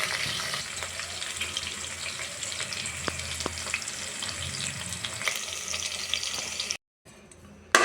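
Onions frying in a pan until brown, a steady crackling sizzle with a few sharp stirring taps, close and moderately loud, cutting briefly to silence near the end.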